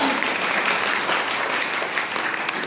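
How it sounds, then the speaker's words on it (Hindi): An audience at a business talk breaks into loud, dense applause, a continuous wash of many hands clapping close and steady for the whole stretch. "आदरणीय सफीर खान साहब, जोरदार ताली"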